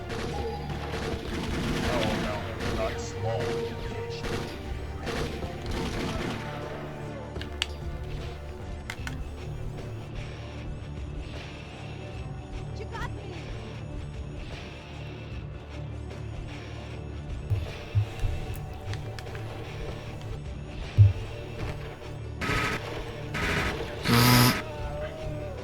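Machine gun fire in the Robocop Aratanaru Kiki game, long stretches of rapid shots mixed with bursts and crashes beneath continuous game music, with a few sharper bangs near the end.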